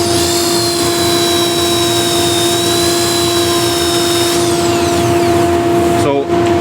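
A power tool spins while sanding wood with 180-grit paper, giving a loud, steady motor whine with high harmonics that sags in pitch near the end before a short clunk.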